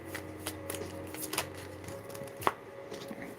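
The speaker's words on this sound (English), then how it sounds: "so I'm gonna shuffle again" Tarot cards being shuffled by hand during a live reading, a soft riffling and tapping texture with a few sharper snaps, close up and without talk.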